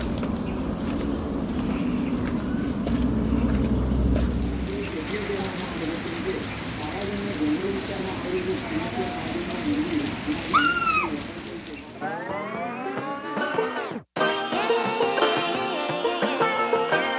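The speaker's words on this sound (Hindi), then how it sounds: "बारिश हो रही है" Steady rain falls outdoors below a home in India, a dense hiss with pattering drops. Faint bird calls come through partway, and a brief dropout is followed by sharper nearby sounds.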